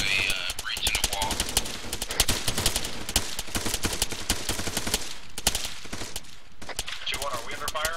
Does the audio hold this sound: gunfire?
yes